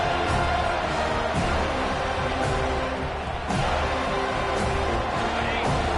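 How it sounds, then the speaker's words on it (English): Stadium crowd at an American football game, a dense, sustained roar of thousands of fans, steady and loud throughout, with faint rhythmic pulses under the din. "The roar of the crowd trying to fuel this defense to keep them pinned in their own end."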